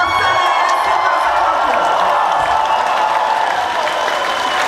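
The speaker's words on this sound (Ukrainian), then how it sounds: "А ну давайте затягнемо овації." A concert crowd at a rock band's anniversary show gives a loud, continuous ovation, with dense clapping, cheering and whoops blending into a steady roar that holds at full strength throughout.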